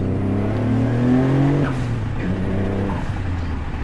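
A Mitsubishi 3000GT or Dodge Stealth pulls away from a stop on a Clutch Masters twin-disc clutch, its engine note droning steadily close up with a gradual rise in pitch and no talking.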